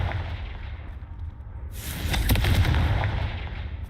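A Confringo fire spell blast in Hogwarts Legacy bursts out after a low rumbling background, a loud explosive whoosh with crackling that lingers for about two seconds.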